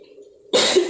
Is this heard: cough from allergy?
yes